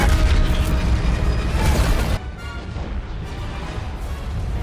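A Star Destroyer fires a Death Star–style superlaser in a Star Wars film, a huge roaring blast that holds loud for about two seconds before dropping to a lower rumbling tail.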